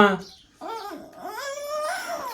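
A dog whimpers and whines in high, wavering yelps at close range, the cries rising and falling over a couple of seconds in a village home.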